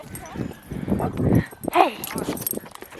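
Dogs on rural family farmland whimpering and yipping with an occasional bark, close by, mixed with a person speaking to them in a friendly voice.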